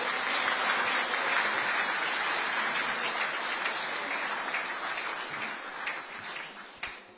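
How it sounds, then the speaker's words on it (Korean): Ceremony audience breaks into sustained applause, a dense rain-like roar of many hands that holds strong and then gradually thins toward the end. "박수 한번 부탁드립니다."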